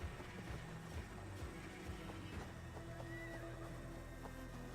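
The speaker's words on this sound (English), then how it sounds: "Horse, stop moving, or I will fucking yeet you." A horse whinnies in a video game, with its neighs rising above the clip-clop of hooves and a low engine-like hum, loud and close with no talking.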